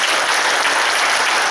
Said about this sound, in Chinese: 咱大家来替何妈妈来拍手，加鼓励，加鼓掌